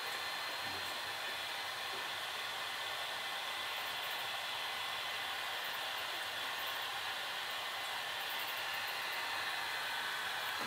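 Steady, even hiss of a hot air tool set to 145 degrees, reheating the adhesive under the glass screen of a Samsung Galaxy Note 2. It runs unbroken at moderate level, with no talk.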